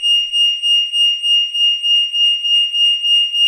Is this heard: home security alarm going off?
yes